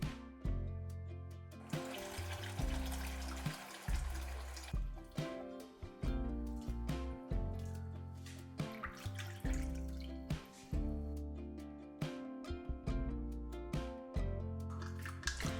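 Hot water in a bucket for cleaning, mixed with leftover tamarind, salt and dish liquid, gives faint splashes and trickling drips in an uneven rhythm at close range.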